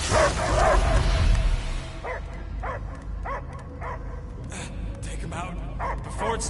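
A dog barks and yips in short bursts in the Guardians of the Galaxy video game, under a heavy game soundscape, with voices talking over it.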